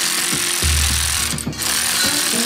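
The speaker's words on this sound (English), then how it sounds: "So we got a nut driver for this, which is definitely speeding it along" A power nut driver whirs steadily and loudly while assembling a cheap hoop house greenhouse frame, its rough motor drone broken by repeated short rattling pulses.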